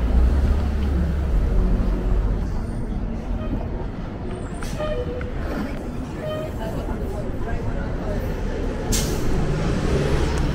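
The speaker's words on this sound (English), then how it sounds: "There's the 97C bus" A city bus rumbles past on Yonge Street in Toronto with a heavy low engine roar. Brief hissing brake-like tones come over steady street noise, and a voice talks faintly at times.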